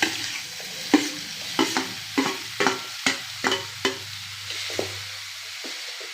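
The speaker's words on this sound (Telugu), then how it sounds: "కొంచెం ఆయిల్ వేసుకున్నామండి. ఇప్పుడు టమాటా వేయించుకుందాం." Tomatoes fry in oil in a pan with a soft sizzling bed, punctuated by about a dozen distinct spatula knocks and scrapes at an uneven rhythm, close and clear without speech.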